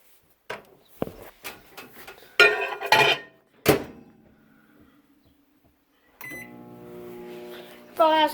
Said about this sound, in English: And now we're going to put it back in the microwave.